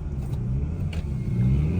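An LS-swapped car engine idling with a hunting, lean-running idle, a close, loud low rumble that rises and falls unevenly with slight revving swells.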